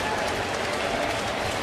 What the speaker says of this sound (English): That got this crowd excited.